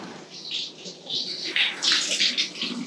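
Shower water running inside a campervan, a steady hissing spray that rises and falls in intensity close by, with a person's faint voice mixed in.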